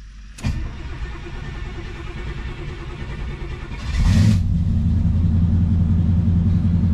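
Hot rod drag car that has sat unused for a while, starting up: a sharp click, a quiet spell, then a cranking burst catching into a loud, steady, deep idling rumble close by with no talk.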